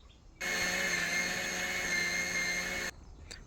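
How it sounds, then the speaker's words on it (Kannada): A mixer grinder whirs loudly and steadily for about two and a half seconds, blending a masala with tamarind for a bangude (mackerel) fish curry, then stops abruptly, leaving quiet room tone. "ಹುಳಿ ಇತ್ತಲ್ಲ ಆ ಹುಳಿಯನ್ನು ಹಾಕ್ಕೊಂಡು ಇನ್ನೊಮ್ಮೆ ಗ್ರೈಂಡ್ ಮಾಡ್ಕೊಳ್ಳಿ"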